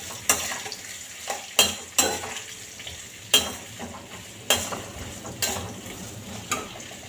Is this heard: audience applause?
no